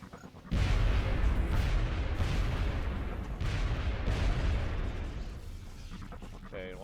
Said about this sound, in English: I'm wanting to throw a grenade at it.